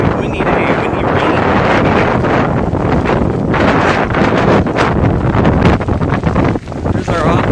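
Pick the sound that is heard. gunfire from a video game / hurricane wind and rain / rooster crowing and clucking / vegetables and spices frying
hurricane wind and rain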